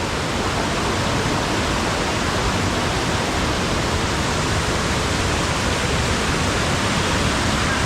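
A river waterfall in Cagayan Valley roars as a steady, dense wash of falling water, loud and unbroken throughout with no voices over it.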